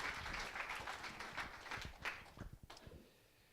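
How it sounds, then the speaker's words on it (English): An audience claps for a keynote speaker at a business and society talk, a moderate wash of applause that gradually thins out and fades toward the end. "let's give him a big applaud"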